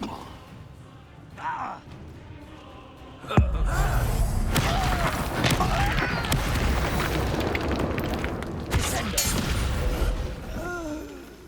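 A Confringo blasting curse explodes in Hogwarts Legacy with a sudden loud boom, followed by a long roaring rumble and crackling debris that slowly fades, close and dominant.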